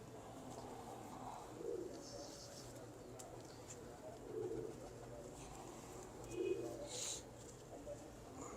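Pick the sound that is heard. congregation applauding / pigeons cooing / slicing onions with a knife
pigeons cooing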